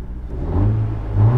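A 10th-generation Honda Civic Si engine revs briefly as the gas pedal is pressed, a short close rising hum that swells twice over about a second and a half.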